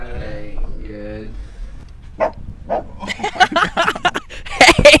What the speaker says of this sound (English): He's barking at her again.